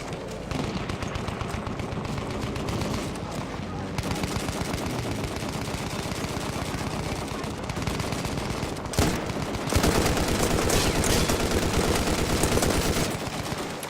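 Battlefield 1 gunfire during the Brusilov Offensive operation: dense, continuous shooting with overlapping rifle and machine-gun rounds, explosions and battle noise, steady and loud throughout with a heavier burst near the end.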